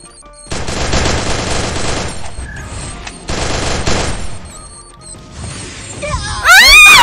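Gunfire and bomb explosions in the Free Fire game come as loud rapid bursts of shots, two long volleys with short gaps between them, followed by a crash and a high whistling effect at the end, with no voices.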